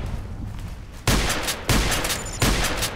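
KelTec KSG pump-action shotgun firing in the online shooter Contract Wars: three loud, close booming shots spaced roughly two-thirds of a second apart, each with a sustained roaring tail.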